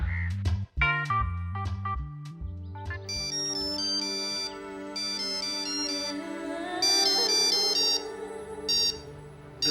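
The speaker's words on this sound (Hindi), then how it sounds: "तुम्हारा फोन है।" An electronic phone ringtone plays a loud, bright melody of repeating tones that builds into a fuller tune.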